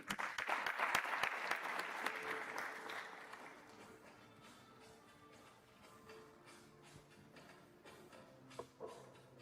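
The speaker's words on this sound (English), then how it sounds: "A round of applause to our speaker." An audience at a university medical school white coat ceremony applauds a speaker, clapping loudly at first and then thinning out into scattered claps and shuffling.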